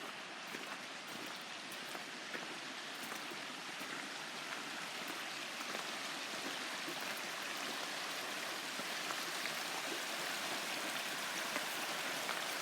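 A river at Bodnant Gardens flows steadily with a dense, even wash of water noise that carries on unbroken throughout, close and moderately loud, with no voices.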